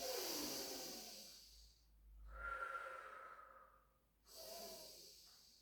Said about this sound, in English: Take a nice breath in.